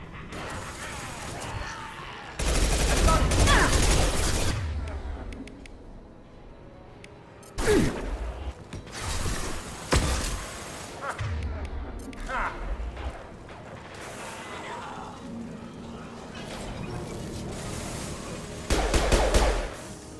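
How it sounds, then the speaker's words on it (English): Concussive shot blasts in the Mass Effect 2 video game, several loud bursts with gaps of mechanical game sounds between them, played under occasional talk. "Firing concussive shot."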